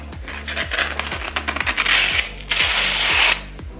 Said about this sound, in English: ready to get hit with the sharpener. So we're gonna sharpen it up